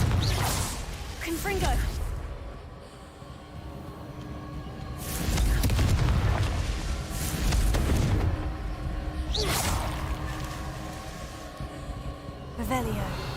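Confringo fire spells from Hogwarts Legacy burst in repeated booming blasts with whooshing tails, several explosions spaced a few seconds apart under a rumbling bed, with a voice calling the spell between blasts.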